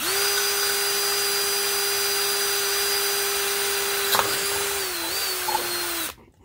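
A power drill whines at a steady high pitch for about six seconds, dipping briefly as it bites through a plant pot to make a drainage hole, then stops abruptly.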